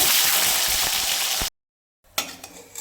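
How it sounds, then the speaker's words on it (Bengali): Eggplant pieces sizzle loudly in hot oil, a steady close frying hiss that cuts off briefly and then resumes with a sharper crackle, cooked as part of a Bengali sukto vegetable dish. "বেগুনটা ভেজে নেব"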